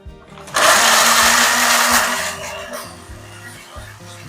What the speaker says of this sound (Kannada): ಇದಕ್ಕೆ ನೀರು ಸೇರಿಸಿದರೆ ಹಾಗೆ ಇದನ್ನ ಮಿಕ್ಸಿನಲ್ಲಿ ರುಬ್ಕೋಬೇಕು